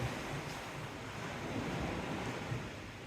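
Sea waves wash steadily against a seafront, a continuous broad hiss and surge with gentle swells, mixed with some wind noise on the microphone and no voices.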